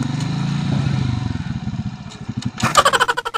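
Motorcycle tricycle engine chugging at low speed while being driven, steady throbbing that fades, then a louder clattering rev at the end, close to the recorder.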